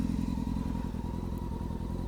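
A motorcycle engine idles steadily up close, a continuous low rumble with fast even pulsing and a mechanical clatter throughout, no talk.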